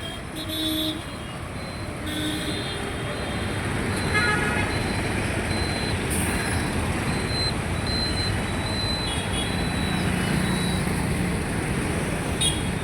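Busy road traffic at the Lodge Center junction in Guntur, with cars, buses and trucks; a continuous roadway rumble carries scattered horn toots, some near and some distant, and no talk is heard.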